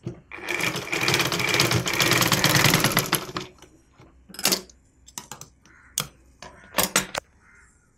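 Sewing machine stitching lace onto a saree border, a loud continuous whirring run of about three seconds, then a few short bursts and isolated mechanical clicks, with no speech.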